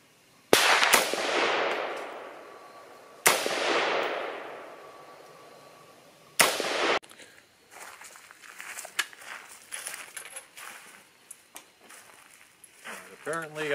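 Three loud, sharp gunshots from a Talon Armament Gryphon GAR-15 rifle at an outdoor range, each with a long decaying echo, followed by fainter handling noises and rustling.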